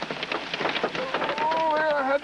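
Half-inch hailstones drum on a car roof in a dense, irregular clatter of sharp hits, loud and close, with a voice rising over the pounding near the end.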